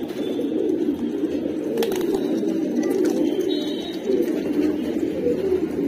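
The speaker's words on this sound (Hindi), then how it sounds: "ये देखो यार मद्रासी, बहुत अच्छे मद्रासी कबूतर आए हुए आज" Madrasi pigeons coo continuously in low, murmuring tones, several birds together nearby, with faint background noise.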